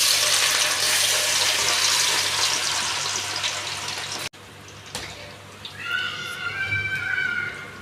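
Pieces of turmeric-coated food go into heated oil to fry, giving a loud, dense, steady sizzle that cuts off abruptly. Quieter bubbling and some soft sounds follow.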